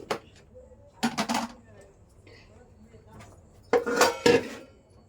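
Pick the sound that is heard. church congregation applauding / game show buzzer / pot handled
pot handled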